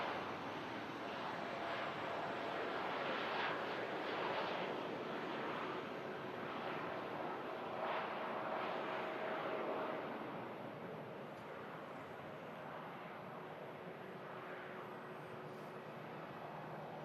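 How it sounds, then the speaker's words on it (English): An Etihad Boeing 787 Dreamliner bound for Abu Dhabi passes overhead as a steady, broad roar, moderately distant, mixed with wind and microphone buffeting, swelling early and easing slightly toward the end. "Etihad Dreamliner heading back to Abu Dhabi."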